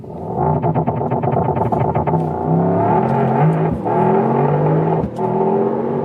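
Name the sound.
Mercedes-AMG GT 63 launch-control acceleration uphill in Sport Plus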